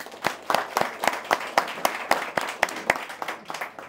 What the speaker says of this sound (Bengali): একটা জোরে তালি দিতে চাই।